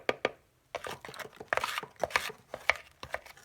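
A fork mixes baking soda into homemade slime, giving quick, wet, squishy clicks and sticky slaps in uneven bursts close up with no talk over them.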